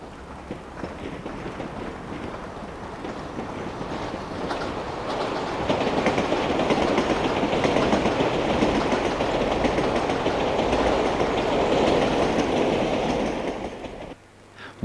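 Two British Rail 4VEP slam-door electric units pass Twickenham, rising from a distant rumble to a loud, sustained roar of wheels and rhythmic clickety-clack over the rails before cutting away abruptly.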